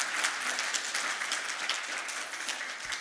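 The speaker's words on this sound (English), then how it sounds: "Let's give her a round of applause." Church congregation applauding for a woman being honored, steady dense clapping filling the room without pause, no voices over it.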